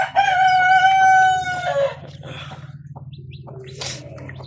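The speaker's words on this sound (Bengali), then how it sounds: "আলহামদুলিল্লাহ এখানে আমাদের দেশি মুরগির বাচ্চা উঠছে।" A desi hen near newly hatched chicks gives a loud, drawn-out crow-like call for about two seconds. Softer clucks and rustling follow close by.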